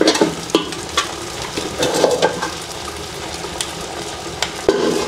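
Stirring in a large pot heated over a fire, with scraping and clinking strokes over a steady sizzling bubble, close and fairly loud, with no talk.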